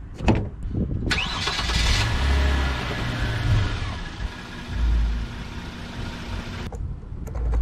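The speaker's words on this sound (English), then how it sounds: "so I moved the car forward a bit" A 2016 Hyundai Genesis Coupe 3.8 starts and creeps forward, its engine turning over with a sharp burst, then idling and revving gently nearby before settling, with no voices.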